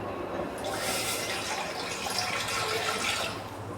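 Water pours into a pot to cook Maggi noodles, making a continuous, close, fairly loud rushing splash that holds steady for several seconds before easing slightly.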